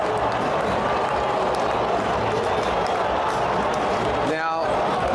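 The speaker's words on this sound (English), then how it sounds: "The cheer squad's going absolutely berserk." Geelong Cats cheer squad roaring at the AFL grand final, a steady, loud wall of crowd cheering and clapping that carries through without a break, with one sharp clattering burst near the end.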